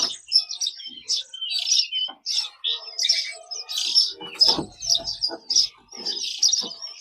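Caged birds at a bird shop kiosk chirp and tweet busily in close, overlapping bursts, with a brief thud partway through and no talking.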